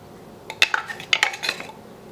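Tapioca starch tipped from a measuring cup into a mixing bowl for grain-free pizza dough, with a brief cluster of close, bright clinks and taps of the cup against the bowl rim.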